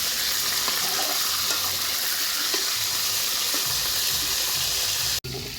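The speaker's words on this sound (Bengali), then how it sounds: "তেল দিয়ে রোস্টগুলো আস্তে আস্তে ভেজে" Pieces of chicken roast fry in oil in a wok, a loud, dense, continuous sizzle close at hand, with a few faint clinks beneath and a sudden brief cut near the end.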